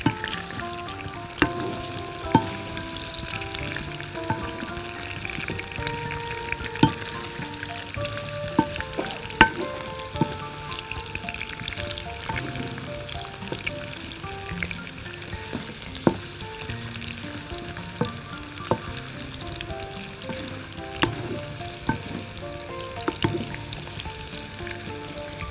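Food shallow-frying in oil in a pan while a vegetable and meat tajine is cooked: a steady, soft sizzle with scattered sharp pops and crackles, continuous at moderate level over quiet background music.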